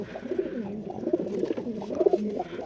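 Black Jiriye and Teddy pigeons coo steadily up close: a run of soft, throaty, rolling calls overlapping one another with no break, no people talking.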